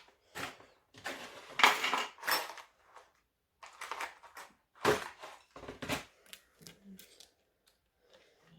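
A sewing machine's presser foot is unclipped and a zipper foot snapped on: a quiet, scattered series of small metallic clicks, taps and clinks from close by, with short pauses between them and no talking.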